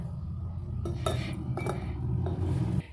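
Pieces of badhar fruit go into a glass jar for village-style pickle, giving a few light clinks and knocks of fruit and utensil against the container over a steady low background.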